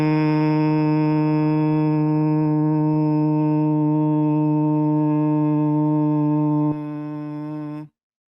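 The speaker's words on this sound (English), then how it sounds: "So what we need to do for Bhramari is simple. Take a deep breath in and make a humming sound like this." A person sustains a steady, low, resonant hum on the out-breath for Bhramari yoga breathing, close and unbroken for about eight seconds before stopping abruptly.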